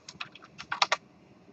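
Quick, close keystrokes on a computer keyboard entering a number, about eight crisp clicks in a brief burst, alone without talk.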